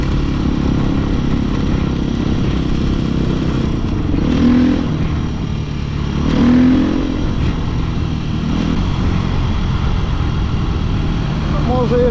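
A motocross dirt bike engine runs steadily up close, its low rumble swelling slightly in places, with someone talking over it.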